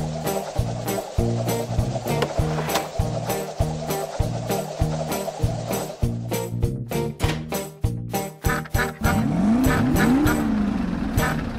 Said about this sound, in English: Oh, forgot something. The engine.